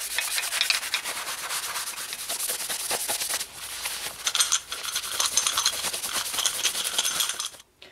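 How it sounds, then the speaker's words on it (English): Wax being buffed by hand onto the underside of a wood lathe's tailstock and banjo: brisk, close rubbing strokes in a steady back-and-forth rhythm, with brief pauses and no talk. "apply wax to the bottom of the tailstock, as well as the banjo. And make sure to buff both surfaces."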